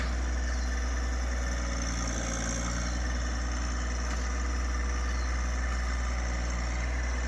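A John Deere tractor scrapes a dirt road, its engine giving a steady, continuous low drone that holds at an even level throughout with no voices.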